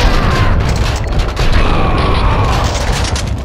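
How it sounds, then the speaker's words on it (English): Gunfire in the Max Payne 2 video game, with dense rapid shots and heavy booms in a loud, continuous burst over a rumbling background. "Someone must have heard the gunfire."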